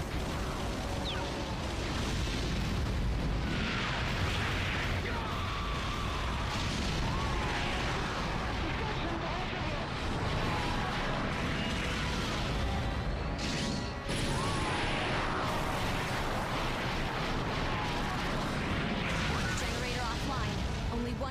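Artillery fire pounds troops in the Godzilla PS4 video game, a continuous barrage of loud crashes, booms and impacts with debris and rumble that never lets up, while voices talk over it.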